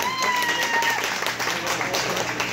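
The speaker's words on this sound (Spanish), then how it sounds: "¡Aplausos para la llorona!" A nightclub crowd at a Halloween party claps and cheers steadily, the applause dense and loud throughout. Faint background tones sit underneath.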